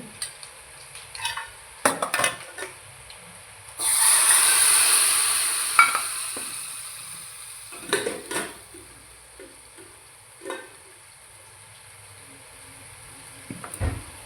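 Cumin and turmeric tempering for spinach in a hot pan, a loud sizzling hiss that bursts up and fades over several seconds, framed by spoon clinks and scraping stirs, close by.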